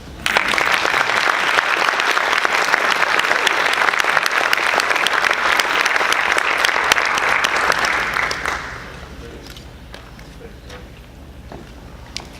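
A hall of fame induction audience in Statesboro warmly applauds Mitch Taylor, a former shooting guard, with steady loud clapping that fades out after about eight seconds into quiet room tone.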